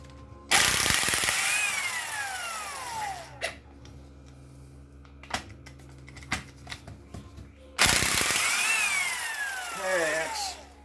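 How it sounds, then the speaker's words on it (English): A ratchet wrench clicks rapidly while removing rod nuts from a 1963 Austin Healey engine during disassembly, two long close bursts of ratcheting separated by quieter tool handling and occasional knocks, with a voice heard briefly. "Two of them I might have to take off with wrenches."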